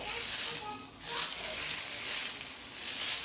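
Homemade butter sizzles on a hot tava over a gas flame while khoa-stuffed sweet flatbread is being made; a steady, close frying hiss runs through the whole short stretch.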